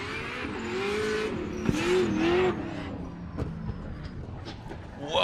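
A Formula Drift Pro race car drifting during qualifying at Texas Motor Speedway, engine roaring loud and steady with drawn-out tire squeals that rise and bend, then the car fades with scattered gravelly bursts.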